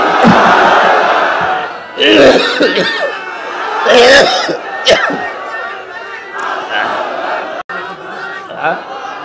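A large crowd roars back in loud repeated chanted shouts answering a call at a Bangladeshi religious rally, the surges swelling and falling with some scattered voices and coughs between them.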